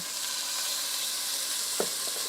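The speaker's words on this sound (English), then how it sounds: "We love the sound of sizzling here on the stream." Continuous loud sizzling of chicken frying in hot oil, a steady crackling hiss with a brief clink of a utensil near the end.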